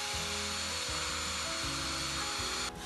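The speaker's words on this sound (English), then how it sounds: "we just add this into our drill bit. And when you spin it round, it basically sands the radius." A power drill spins a slapper sanding tool against a radius cut with a hole saw or jigsaw in a van conversion, giving a continuous loud rough whirring with rhythmic flapping pulses that stops abruptly near the end.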